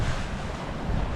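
Broad, steady wash of waves on Lake Michigan heard from a sailboat under way, mixed with constant wind rushing across the microphone, loud and continuous with no break.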